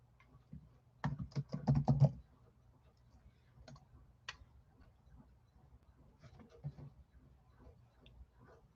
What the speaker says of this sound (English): I'm gonna type that in so I won't forget